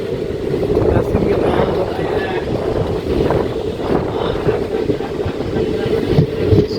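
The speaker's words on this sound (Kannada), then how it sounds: "ಆದರೂ ಟ್ರೈನ್ ಹೊರಡ್ತಾರೆ" Steady low rumble of a train moving, with continuous rolling noise and some wind buffeting throughout.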